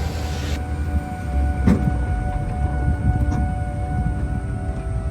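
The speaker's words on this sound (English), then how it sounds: "Tram tour is bumpy." Low rumbling of a tour tram in motion over a bumpy route, constant and fairly loud, with faint rattles and a couple of light knocks from bumps.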